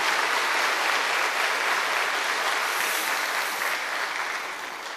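Sustained applause from a church congregation for the choir after its hymn, dense and steady throughout before tapering slightly at the end, with no voices over it.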